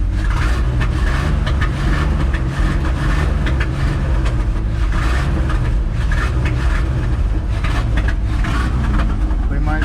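A 1997 Chevy C10 squarebody pickup engine running rough and breaking up, a loud, dense low rumble with uneven pulsing throughout, close by, with people talking over it.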